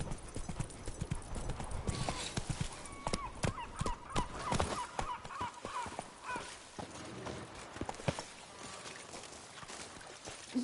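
Hooves of Roach, the horse in The Witcher 3, clip-clop in a fast, steady galloping rhythm, close and clear, with a short whinny-like tone partway through and faint game sounds around.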